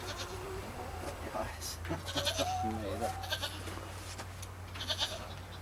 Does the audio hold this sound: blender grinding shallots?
no